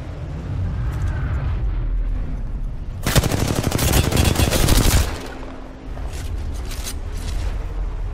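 Gunfire in the Apex Legends video game: a dense, loud two-second burst of rapid automatic shots, followed by fainter scattered shots over steady background ambience.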